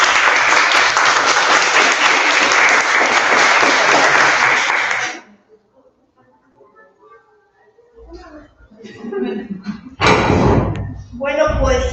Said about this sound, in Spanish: Pues un aplauso enorme, por favor.